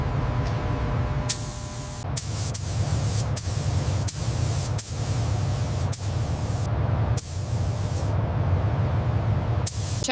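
A spray gun lays a sealer coat on the roof of a 1969 Camaro Z/28, loud bursts of hissing spray starting and stopping in repeated passes over a steady low hum in the shop.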